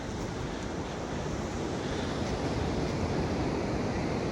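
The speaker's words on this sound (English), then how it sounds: "The Pacific Ocean." Pacific Ocean waves wash ashore in a continuous loud, hissing surf roar, mixed with gusty wind buffeting the microphone and no voices.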